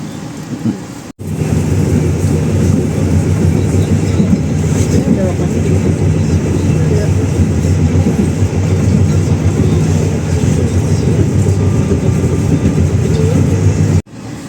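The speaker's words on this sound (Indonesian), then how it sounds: "Kereta api Malabar" A heavy Malabar passenger train rumbles past close by in Indonesia in a sustained, steady roar with rattling, broadband noise that persists for the whole stretch.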